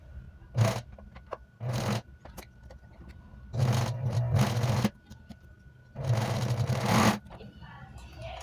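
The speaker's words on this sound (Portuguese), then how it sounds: "vou costurar o ombro do revel. E vou iniciar com o retrocesso" A sewing machine stitches the shoulder seam of a dress, starting with a backstitch: four short bursts of whirring, fast-running stitching separated by pauses, fairly close and clear, with no talking.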